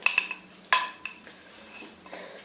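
Starch poured into a cooking pot in a home kitchen, heard as a few sharp metallic clinks and taps near the start, then quieter rattling and scraping close by, with no talking.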